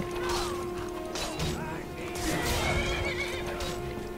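A horse in the Skyrim video game lets out a loud, close whinny, mixed with clattering hoof and impact noises.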